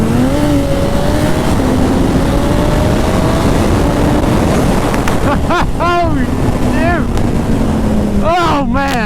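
A turbocharged Suzuki Hayabusa motorcycle pulls hard in second gear, its engine note rising steadily in pitch over heavy, constant wind buffeting, then quick shifts or revving bursts near the end, loud and close.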